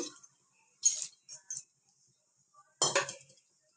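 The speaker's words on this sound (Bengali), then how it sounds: "এখানে কড়াই চাপিয়ে দিয়েছি।" A metal kadai set down on a stove for cooking pumpkin greens with lentils, giving a few brief clanks and clinks of metal, the loudest near the end, with quiet gaps between.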